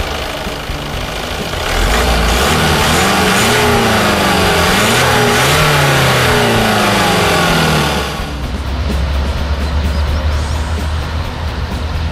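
A Honda Civic with a 1.6-litre i-DTEC diesel engine accelerates hard, its loud engine note rising and falling through gear changes, then settling to a steady lower drone; no talking.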